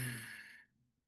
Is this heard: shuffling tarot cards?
no